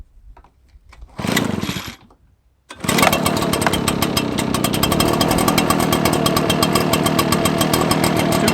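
An Echo PB-755 backpack leaf blower engine pulled over in cold, roughly 25-degree weather: a brief sputtering attempt, a short pause, then the two-stroke catches and runs at a loud, steady, buzzing idle as it warms up, with no talking.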